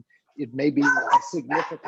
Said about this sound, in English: sorry for my dog, he agrees with me.